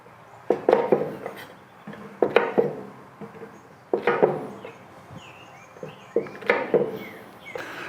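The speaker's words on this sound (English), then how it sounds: "So we'll just chop the ends off." A knife chops the ends off mushrooms on a cutting board in short clusters of crisp taps, four or five groups spaced a second or so apart, close and fairly quiet with no talk.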